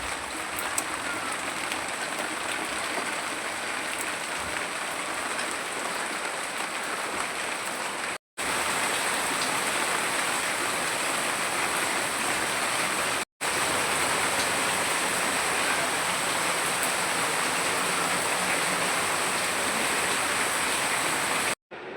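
Rain falls steadily in a constant, loud hiss of drops on surfaces, continuing almost without pause for the whole stretch, with no talk over it.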